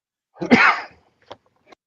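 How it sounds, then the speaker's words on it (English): A single sharp, explosive cough close by, followed by two brief faint sounds of breath. "I still have a bit of a cough"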